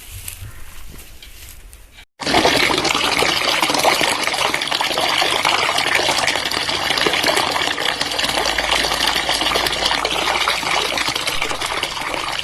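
Water splashes steadily and loudly from a sudden start as someone washes their face outdoors, a continuous close wash of splashing and trickling that runs to the end.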